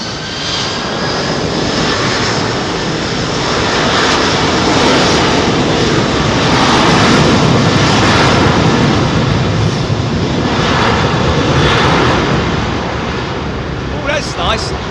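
A Pratt & Whitney-powered jet airliner departs London Heathrow's runway 27R, its engine roar loud and close, swelling steadily through the middle and easing slightly toward the end.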